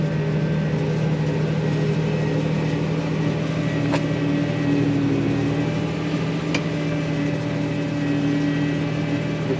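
A tractor engine drones steadily as it drives across a field, pulling an Amazone ZA-TS 4200-litre spreader that spreads kieserite fertiliser. The low hum stays constant and fairly loud, with a couple of faint clicks and no talk.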